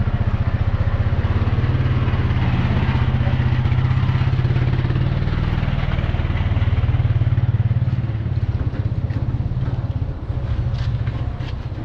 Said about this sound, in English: Vehicles down here, little quads.